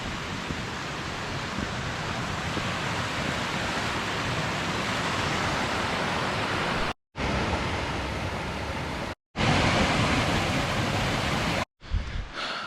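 River flowing from Rainbow Falls beside a trail in the Great Smoky Mountains, a loud, constant broadband rush of water heard close, broken by a few abrupt cuts, with no talking.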